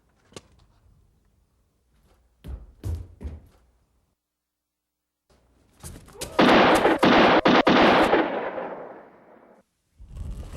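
Gunshots from the Peacekeeper Revolver light-gun game on a Philips CD-i: a few sharp isolated cracks early, then a loud sustained burst of rapid overlapping shots and blasts, ending with another shot.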